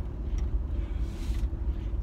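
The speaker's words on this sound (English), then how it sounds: "here's the trash truck." A garbage truck on a residential street, heard as a steady low engine rumble with broadband hiss, continuous and moderately loud throughout, with no voices.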